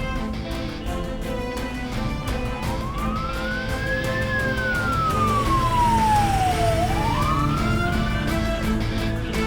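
Ambulance siren wailing in a long rising and falling sweep, loud and fairly close, over a steady rumble of traffic and engine noise.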